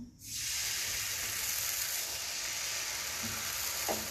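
A sudden, loud sizzle bursts up and holds steady as dosa batter hits a hot griddle, close by, with a faint clink near the end.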